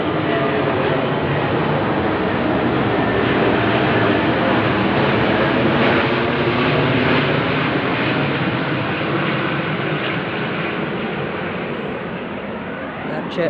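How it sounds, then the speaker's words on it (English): A jet aircraft flying overhead, heard as a loud, steady broadband roar that fills the whole clip and eases only slightly toward the end. "That jet looks almost over my head to my naked eye"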